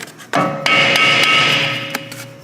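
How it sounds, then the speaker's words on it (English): A hammer taps a Volvo wheel bearing part to seat it: about half a dozen sharp metallic knocks in quick succession, each leaving a bright ringing tone, close and loud with no voices. "I'm gonna tap on it with a hammer"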